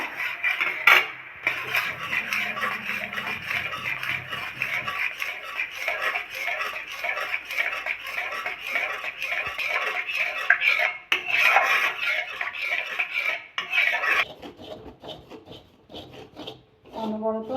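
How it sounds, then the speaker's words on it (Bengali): Milk for Mathura pera sandesh is stirred nonstop in a pan, giving a continuous close rubbing and scraping with soft clinks of the utensil against the metal. It runs for about fourteen seconds, then stops briefly and starts again. "অনবরত নাড়তে হবে"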